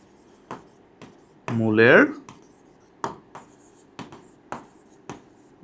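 A pen writes by hand while a math problem on function domain and range is being solved. It makes soft, intermittent close scratches and taps, and a short burst of voice cuts in partway through.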